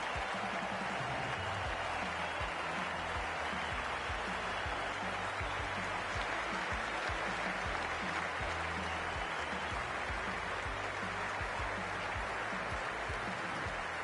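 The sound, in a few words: crowd applause in Cricket 24 video game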